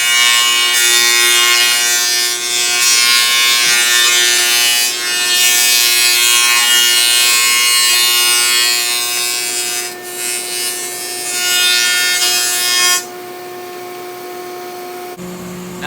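Boards feed through an old Oliver planer, a loud steady whine of the cutterhead with a rough rasping cut that dips as the wood passes and turns to a smoother hum of the running machine near the end.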